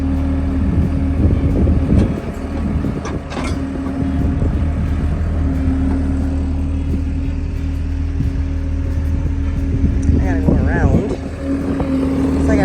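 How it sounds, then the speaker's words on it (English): A skid steer loader moving old equipment, its engine a steady low drone that runs throughout with small shifts in load and some clanking in the background. "the skid steer works the best to get it in"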